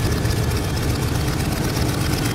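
A toy plane's engine sputters and fails during a Duplo toy play scene, a continuous low rumbling drone with a rough, pulsing texture and no voices.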